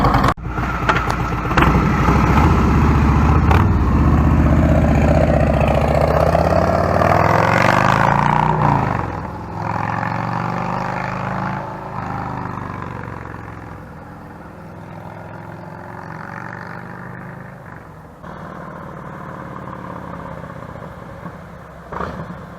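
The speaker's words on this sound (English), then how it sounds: "I'm going to pull out now and take it for a ride." A 2020 Harley-Davidson touring motorcycle engine runs loud and close, revving up with rising pitch as it pulls away, then settles into a steady drone with shifting gears.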